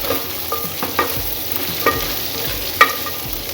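Beef browning in a hot pan, a steady sizzle with occasional spits and pops and light scraping, close and continuous with no talking.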